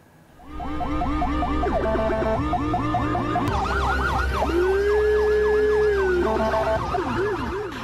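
Ambulance siren wailing loudly on a crowded Jakarta street, Jalan Salemba in Senen, its rising and falling tones cycling continuously close by over road traffic noise, with another siren pattern overlapping.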